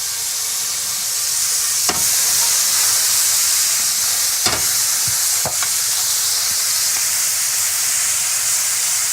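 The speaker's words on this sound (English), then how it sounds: "We're basically going to flash fry it with this marinade." Loud, steady sizzle of chicken flash frying over high heat in a honey, lemon and soy marinade, a constant close hiss broken by a few sharp clinks of stirring.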